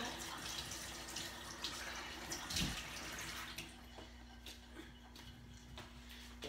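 Hot water is poured into a container of slime and Orbeez, a quiet trickling, splashing flow that tapers off midway into softer drips and small ticks, heard from close by.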